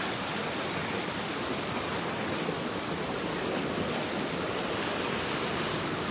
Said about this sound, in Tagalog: Ayan na, umuulan na.